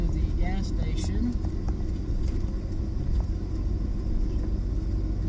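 A car pulls into a gas station, its engine and tyres making a continuous low rumble that stays steady and close throughout.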